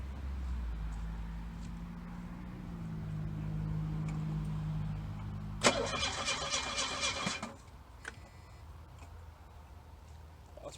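The starter on a 1982 Plymouth Reliant, dormant for 29 years, cranks the engine in a harsh, rapid whirring burst of about two seconds after a quiet stretch, then falls away with a few faint clicks.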